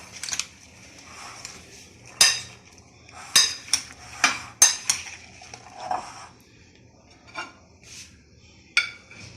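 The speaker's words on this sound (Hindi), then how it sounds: "चलिए मैं इस तरह मिक्स कर देती हूँ।" Fruit salad tossed and mixed in a bowl with a spoon, giving a run of sharp clinks and scraping knocks in uneven bursts, fairly close, with no talking.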